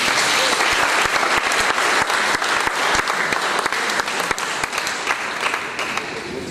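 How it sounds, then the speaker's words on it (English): Steady applause from a large audience, dense clapping throughout that slowly thins toward the end. "I think we should clap again."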